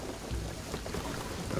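Steady rainfall in Shadow of the Tomb Raider at Cozumel, a dense even hiss with low rumbling underneath, constant and moderately loud with no talking.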